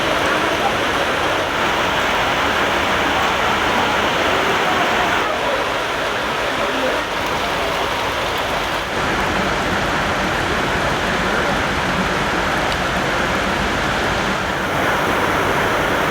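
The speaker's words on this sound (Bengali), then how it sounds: "এত বৃষ্টি হচ্ছে যে ট্রেনের সিগন্যালই দিচ্ছে না।" Heavy rain pours at Siliguri Junction while a train waits at the platform, a dense, constant roar of rainfall that stays loud and steady throughout.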